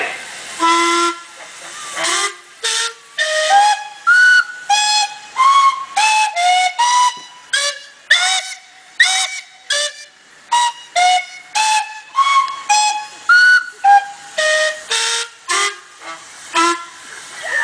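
Traction engine steam whistles blow in a long run of short and medium toots, several engines at slightly different pitches, loud and close, taking turns in a lively, uneven rhythm with steady background hiss.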